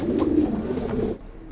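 Pigeons cooing from a rooftop loft kept for traditional pigeon flying, a steady low murmuring coo that runs for about a second, close and fairly loud, then breaks off.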